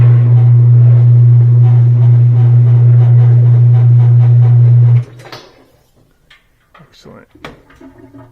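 Thin twin laundry center washer basket spinning after a repair, a loud steady low hum that stops abruptly after about five seconds, followed by clicks and handling noises.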